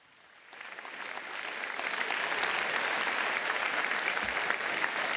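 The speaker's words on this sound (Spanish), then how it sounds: "Dale este fuerte aplauso al Señor" Congregation applauding during a Catholic church service, a dense, steady wash of many hands that swells quickly and holds at full strength, sounding broad and reverberant.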